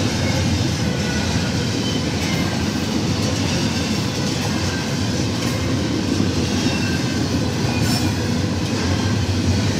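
CSX freight train 742 rolling through Altamont, Illinois at night, a continuous loud rumble and rattle of railcars with steady wheel clatter and faint squeals, heard close without talk.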